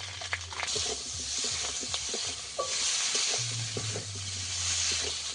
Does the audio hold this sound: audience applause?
no